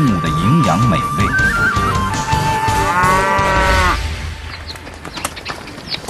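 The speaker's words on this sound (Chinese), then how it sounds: "这里有超过4万头奶牛，是中国最大的奶牛养殖基地" Dairy cows at a large cattle farm low loudly and close by, with long sustained moos that rise and then fall away. Fainter farm sounds continue in the background after the moos fade.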